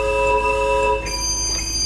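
A theatre organ toe piston sets off a train sound effect: a loud sustained whistle-like chord that shifts pitch midway over a low rumble. It is heard alone.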